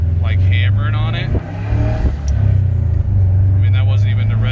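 A 2005 Subaru Legacy GT Limited idles in neutral with a loud, steady low engine drone that swells as it is revved to about half throttle, a voice briefly audible over it.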